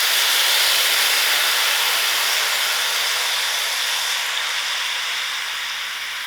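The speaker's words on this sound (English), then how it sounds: "I'm going to add in my mushroom and also my spinach together. so the juices can dry." Mushrooms and spinach sizzling in a hot pan, a steady broad hiss like steam and frying that holds constant and fades slightly toward the end, with no talking.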